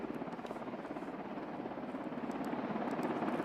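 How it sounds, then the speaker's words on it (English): Marine One presidential helicopter landing in Davos, its rotor chopping steadily and loud at close range with a constant turbine whine, growing slightly stronger toward the end. "this is the Marine One helicopter that has touched down in Davos."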